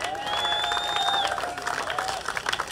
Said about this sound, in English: applause for Mr. Andy Reynolds, as always, bringing u